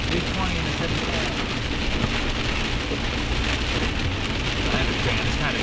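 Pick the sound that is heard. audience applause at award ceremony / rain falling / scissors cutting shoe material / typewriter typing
rain falling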